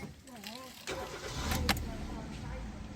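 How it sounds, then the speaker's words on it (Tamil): A Hyundai car engine cranks and fires, then settles into a steady idle, heard close from inside the vehicle just after a voice speaks briefly. "வண்டியை ஸ்டார்ட் பண்ணுறேன்."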